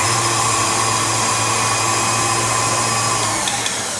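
Electric mixer whirring steadily while beating lemon delicious batter, a loud continuous motor hum with a faint clatter near the end, no voices.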